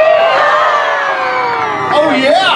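A live audience at a Krazy Kirk and the Hillbillies show at Knott's cheers, whoops and shouts loudly in a sustained roar for a couple of seconds, with individual high yells rising over the crowd.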